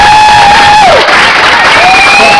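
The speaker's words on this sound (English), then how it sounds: "Hold your applause for a second" A crowd at a political rally cheers and applauds a speaker, a dense and loud wash of clapping and voices with a few whistles sliding across it.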